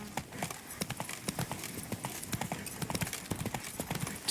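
Roach, Geralt's horse in The Witcher 3: Blood and Wine, trots with a brisk, even clip-clop of hooves. The footfalls are close and distinct over a soft bed of game ambience, and no one speaks.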